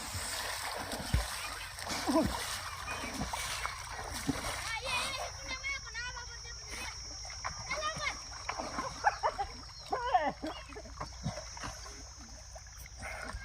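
A bull is washed in a village pond, with repeated splashes and sloshing water while people talk and call out over it throughout.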